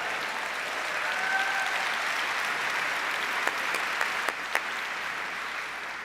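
An audience applauds at an Adobe presentation, a dense, steady wash of clapping from a large crowd held at an even level, with a few sharper individual claps standing out near the end.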